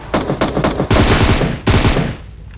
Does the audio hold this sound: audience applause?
no